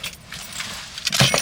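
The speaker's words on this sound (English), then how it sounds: "I gotta find where the keys are." Keys jangling close up, a continuous metallic rattle that grows louder and sharper toward the end, heard alone.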